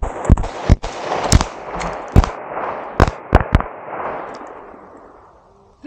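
Gunshots ring out at an outdoor shooting range during a Green Beret range day: about eight sharp, loud reports in an irregular quick sequence, some in close pairs, each followed by a long rolling echo that fades away.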